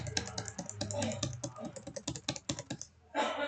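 Rapid clicking keystrokes on a computer keyboard, irregular bursts of close taps over a few seconds with someone talking softly between them.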